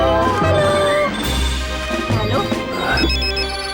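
A mobile phone rings loudly in a cinema in a cartoon scene, its ringtone melody repeating over a busy background of music and crashing effects.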